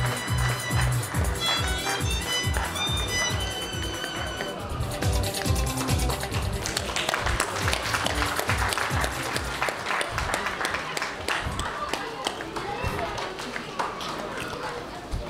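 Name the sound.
applause for the girls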